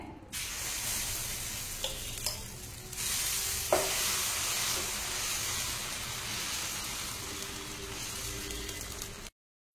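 Adai batter poured onto a hot pan, bursting into a continuous loud hiss and sizzle that holds steady for several seconds, with a few faint clicks and scrapes close by.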